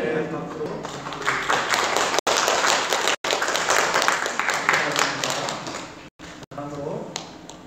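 A church congregation applauds during a pastor's installation service with sustained, dense clapping filling the hall. The applause cuts out briefly a few times and continues throughout.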